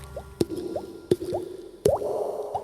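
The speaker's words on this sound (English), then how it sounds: "Much less mouth noise, much more funny bloopy sound." Funny bloopy foley drips recorded during a tabletop fantasy role-playing session: several wet, rising plops, each paired with a sharp click, repeat in an uneven rhythm over a steady low room hum, close and clear with no talking.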